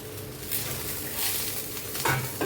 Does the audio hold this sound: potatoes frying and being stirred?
yes